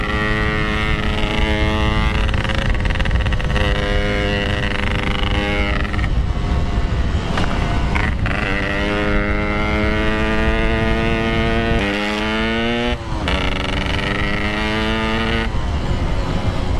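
A Yamaha RX two-stroke motorcycle with a PK3 exhaust revs repeatedly, its loud raspy drone rising and falling in pitch through several throttle blips, close to the microphone with some wind noise.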